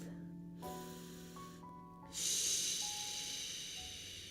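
During a yoga session, a long, airy exhale starts partway through and fades slowly over soft, sustained background tones.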